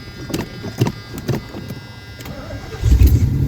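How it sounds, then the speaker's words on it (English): An old Lincoln Mark V, left sitting for about 30 years, cranking in several rhythmic bursts of the starter before the carburetted engine catches and fires up into a loud, rough running rumble. "That's a pretty good old car to start up that good after sitting this long."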